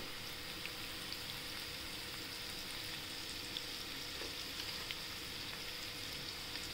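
Potatoes sautéing in a pan for a quick potato stir-fry, a faint, even hiss of sizzling that holds steady the whole time with a few tiny crackles and no talking.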